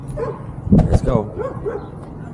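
A puppy gives a short burst of barking and yips outdoors while walking near a backyard with a bird feeder and currant plants, with someone talking faintly around it.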